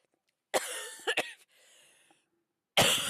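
A fit of several harsh, close coughs in quick succession, a short pause with a faint breathy rasp, then another loud cough at the end.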